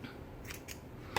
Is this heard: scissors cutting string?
yes